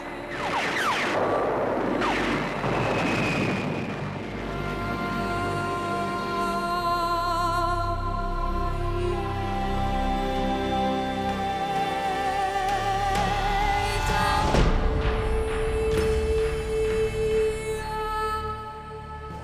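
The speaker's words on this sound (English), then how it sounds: "Shock troops move in for the beach assault." Archival D-Day beach assault with heavy gunfire and explosions: bursts of shots and booming blasts, loudest near the start and again mid-way, over a sustained droning tonal backdrop.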